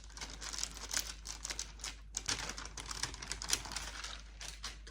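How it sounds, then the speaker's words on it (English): Clay being rolled flat with a roller under a sheet of parchment paper, giving a steady stream of close, crinkly papery rustles and soft scraping strokes with a brief pause near the middle. "I just put like the parchment paper on it, and then I'm rolling it like this."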